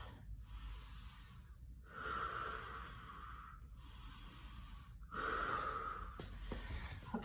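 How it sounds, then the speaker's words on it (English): Heavy breathing during an exercise session, heard as a few long, loud, close breaths in and out with short pauses between them and a faint wheezy edge. "Two more breaths."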